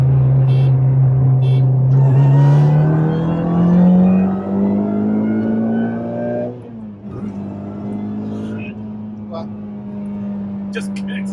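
Turbocharged Honda Civic Si accelerating hard on a dyno, a loud engine tone climbing steadily in pitch through a long pull, then dropping back and holding as the run ends.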